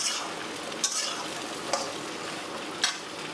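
Chopped cauliflower and beans frying in a pan make a soft, steady sizzle, with three distinct taps or scrapes of a stirring utensil spaced a second or so apart.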